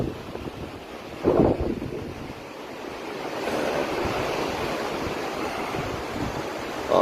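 Wind on a mountainside buffets the microphone in a constant loud rush, gusting stronger toward the end, with a brief thump near the start.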